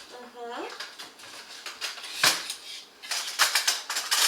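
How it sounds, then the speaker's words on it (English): Dry white ingredients for a jar chocolate chip cookie mix are stirred in a bowl, scraping and clinking of a utensil against the bowl in bursts, close, with people talking over it. "we are just mixing all of the white ingredients together to make it so that they're thoroughly combined"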